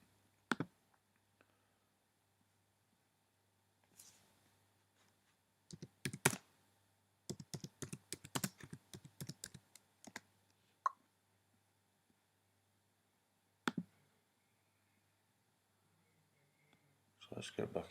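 Sparse computer keyboard typing, scattered clicks and short bursts of keystrokes separated by quiet gaps, faint and close in a quiet room.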